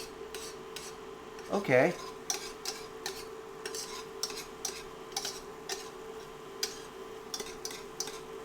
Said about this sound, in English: I think I'm supposed to be still whisking.